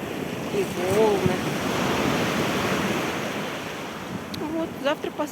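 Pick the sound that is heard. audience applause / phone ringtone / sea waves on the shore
sea waves on the shore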